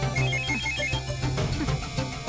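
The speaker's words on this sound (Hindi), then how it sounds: "देखा तुमने, फोन की घंटी बज गई।" A phone's ringtone sounds steadily throughout a tense Hindi TV serial scene, a melodic ring over background music rather than a classic bell, with no talking during it.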